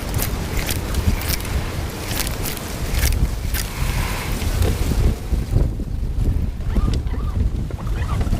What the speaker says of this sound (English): the wind is just blowing me directly back into the bank